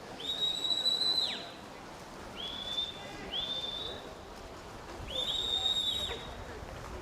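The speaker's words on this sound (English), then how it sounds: "Coach Graham Yell, you can hear the whistle there in the background" Coach's whistle blown in bursts from the poolside during a swimming grand prix final in Stellenbosch, several high shrill blasts of varying length over a distant crowd and pool din.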